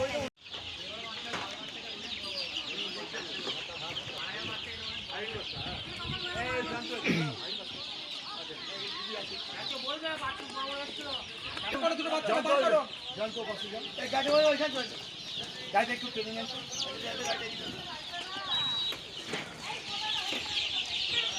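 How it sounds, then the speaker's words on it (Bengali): Chickens and chicks cluck and peep steadily at a rural chick distribution event in Purbasthali, Parulia, with people talking over the birds throughout. "দাঁড়া দাঁড়াও মুরগি"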